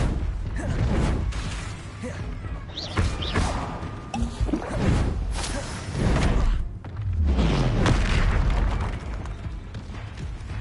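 Spell blasts and explosions in the Hogwarts Legacy video game, with repeated booming impacts, thuds and whooshes in irregular bursts through a chaotic combat mix, loud and close.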